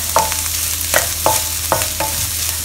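Chopped garlic sizzles loudly in a hot pan for braised pork rice and is stirred in repeated scraping strokes about every half second, close up and without any talk.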